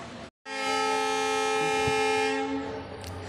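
A train on the Palakkad to Nilambur line sounds a long, loud, steady horn blast that holds for about two seconds before fading, with no voices over it.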